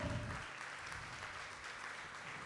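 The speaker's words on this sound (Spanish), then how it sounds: "le das un aplauso al Señor de gratitud" Congregation at a church service applauding, a faint steady patter of many hands clapping, with a brief low voice or tone at the very start fading under the continuous clapping.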